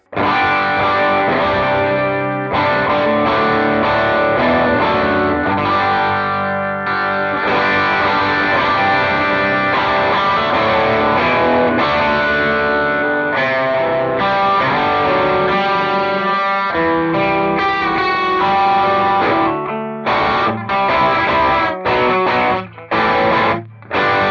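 Electric guitar through a Revv Shawn Tubbs Tilt Overdrive pedal, with a gritty overdriven tone, plays continuous riffs and chords, loud and dense, breaking into choppy stabs toward the end.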